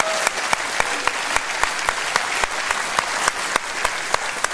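An audience at a Reform UK political rally in Suffolk gives sustained applause, dense and steady clapping from a full room with a few sharper claps standing out.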